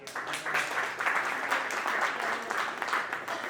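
Audience applause at an anniversary and birthday segment of an awards event, a steady wash of clapping hands filling the room for a few seconds, moderately loud with no voices over it.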